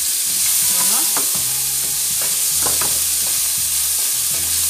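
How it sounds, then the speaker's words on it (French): Spring onions fry in a pot with very little fat, giving a steady, close hiss of sizzling broken by scraping and stirring sounds, with no voices. "On fait revenir les jeunes oignons."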